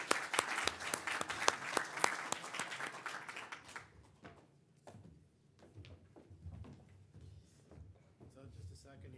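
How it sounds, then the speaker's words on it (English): Loud applause at an arts and business awards ceremony bursts out for a few seconds, then fades into scattered claps and background murmur as people start talking. "a round of applause for them"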